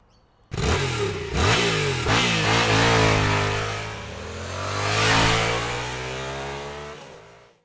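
A Suzuki GSX-S1000GX motorcycle engine starts, then revs up sharply a few times before settling into a loud, steady throttle rise and fall, close by.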